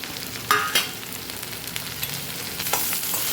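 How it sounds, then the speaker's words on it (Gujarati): Chopped capsicum and chili hit hot oil with partly fried potatoes for a Kathiyawadi sambharo, giving a steady low sizzle broken by a few sharp stirring scrapes and clatters of a spoon in the pan. "સરસ એને પણ મિક્સ કરીને આપણે સાતળી લઈશું।"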